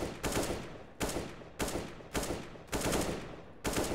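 Short bursts of rifle fire in CS:GO while jiggle peeking an angle, five or six loud, evenly spaced volleys each tapering off before the next.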